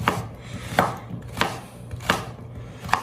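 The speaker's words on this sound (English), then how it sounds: "And now I'm just going to cut these just like this." A knife slicing through squash on a cutting board, five evenly spaced, crisp chops landing close and clear about every two-thirds of a second, with no talking.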